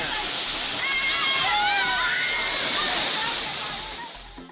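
The Agasthiyar waterfall with tourists bathing beneath it gives a steady, loud rush of falling and splashing water that fills the whole clip, with faint whistle-like tones over the top.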